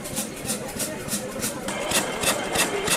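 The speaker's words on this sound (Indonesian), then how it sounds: "Juga ada engine yang zaman lama dulu yang digunakan untuk bertani." An old farming engine at an artichoke festival in Saint-Pol-de-Léon runs outdoors with a steady, rhythmic chugging pulse amid faint background crowd noise.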